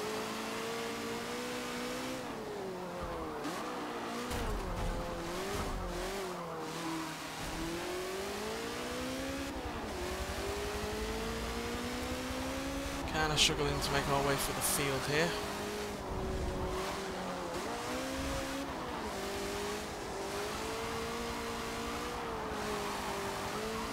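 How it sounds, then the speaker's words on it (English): A supercharged straight-eight race car engine in Forza Motorsport 7 drones continuously through a vintage grand prix field, its pitch rising and falling with gear changes and revving, a brief skid partway through, with someone talking over it. "this has got a straight 8 engine, which is supercharged"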